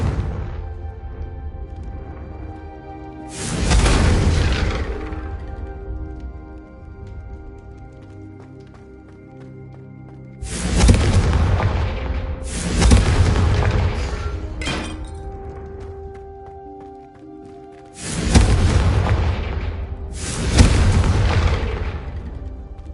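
Booming Confringo fire-spell explosions from the Hogwarts Legacy video game, several heavy blasts in clusters with rumbling decay between them, loud and close over a faint musical background.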